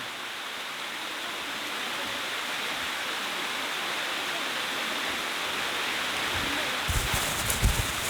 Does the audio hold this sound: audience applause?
no